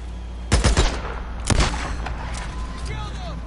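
Sharp gunshots in the open-world game Days Gone: three quick, loud reports, then two more a second later, trailing into a dull ambient rumble.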